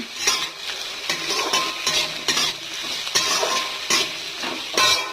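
Pointed gourd, beetroot, potato and eggplant sizzle in a pan while a utensil stirs them in repeated scraping strokes, with light metallic clinks against the pan; close and steady, no talking.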